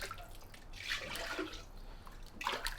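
White or green glaze is poured inside a pottery urn, a soft splashing and trickling of liquid against the ceramic interior, quiet and close, in a few short pours.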